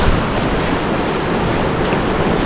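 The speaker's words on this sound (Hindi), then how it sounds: "हाँ जी तैयब, ये आ रहा है कोरकोल्ती नाला, कैसा लगा?" The Qorqolti mountain stream rushes steadily nearby, a dense unbroken roar of flowing water with some wind buffeting and no voices.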